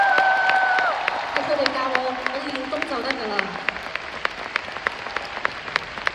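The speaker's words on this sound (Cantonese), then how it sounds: "可唔可以俾最大嘅掌聲佢哋啊？" Concert audience applauding the performers after a Lunar New Year dance routine, steady clapping fading slightly over several seconds with a host speaking over it.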